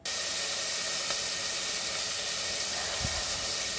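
Pork fat pieces sizzle in a hot pan for Goan pork bafat, giving a loud, steady, close hiss throughout with one soft clunk near the end.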